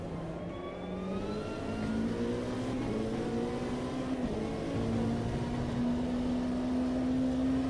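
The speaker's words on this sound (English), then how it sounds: "Blown engine." Engine of an LMP2 prototype race car in a multiclass sim race at the Indianapolis road course, a sustained droning whine that holds a steady pitch with a few abrupt shifts and wavers, constant and fairly loud throughout.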